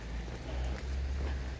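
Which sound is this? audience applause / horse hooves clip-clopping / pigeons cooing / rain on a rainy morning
rain on a rainy morning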